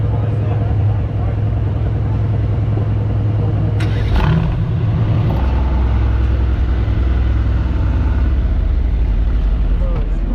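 Mercedes-AMG car engine starting up, a loud close rumble that jumps briefly near the start-up and then settles into a steady deep idle, with no voices.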